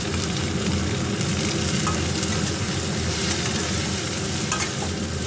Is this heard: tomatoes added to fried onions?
yes